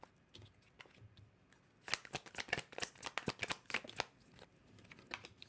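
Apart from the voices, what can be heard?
shuffling tarot cards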